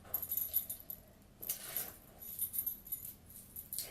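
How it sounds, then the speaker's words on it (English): A bunch of keys jangles at waist level outdoors. The light metallic clinking is steady and fairly faint, and it keeps going over a hiss of background noise. "Okay, started off with the keys at waist level."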